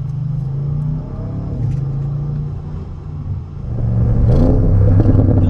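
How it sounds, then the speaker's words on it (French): Deep, throaty twin-turbo V8 engine rumble of an Audi RS6, heard from inside the cabin, rising into a louder rev toward the end, steady and close with no talking. "t'entends le V8 biturbo"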